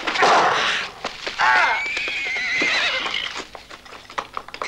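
A horse whinnies loudly and close by, a long rising and falling neigh, followed by clip-clop hoof thuds and scattered knocks in a 1963 western film scene.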